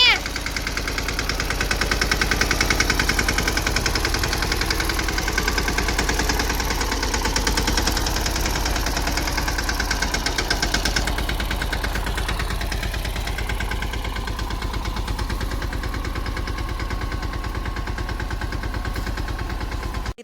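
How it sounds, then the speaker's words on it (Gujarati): A tractor drives in a field during onion seedling work. Its engine gives a steady, close, low chugging drone with a rapid knocking pulse, unbroken for the whole stretch. "જો મમ્મી ટ્રેક્ટર હકારવા માંડ્યા છે"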